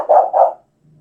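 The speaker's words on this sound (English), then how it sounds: "We are doing the barking." Two quick barks close by, one right after the other, then near silence with a faint low hum.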